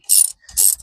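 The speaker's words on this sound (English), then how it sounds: "now we can disconnect the positive terminal, which is also a 10mm socket" A 10mm socket ratchet loosens the positive 12V battery terminal on a Kia e-Niro, two quick loud clicking ratchet strokes close up.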